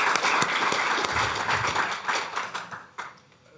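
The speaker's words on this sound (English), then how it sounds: "I think we should welcome them with a big applause." A Davos 2019 audience claps to welcome panelists onto a geopolitics panel stage. The dense, steady applause fills the room for about three seconds, then thins and fades out.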